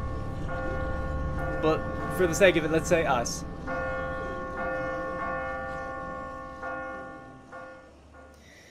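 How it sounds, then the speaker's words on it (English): A church bell tolls in The Walking Dead video game, several slow, ringing strikes with long sustained decays, while a voice speaks briefly over the first part. "Now, I bet she hears that bell right now."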